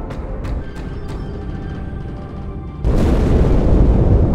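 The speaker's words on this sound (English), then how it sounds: "That explosion came from inside the Athens." Explosion in the Halo 2 video game: a loud, sudden broadband boom erupting partway through and sustaining as a heavy roar, following quieter game ambience with a few sharp impacts.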